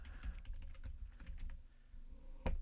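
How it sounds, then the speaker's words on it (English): Rapid typing on a computer keyboard, a close run of crisp key clicks ending in one louder keystroke, with no voices. "So I'm going to type that in"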